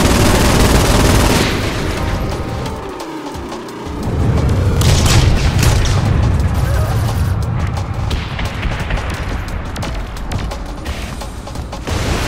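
Gunfire and explosions in Saints Row IV, a loud, dense wall of booms and rapid shooting that runs almost unbroken, with a brief dip before another heavy blast.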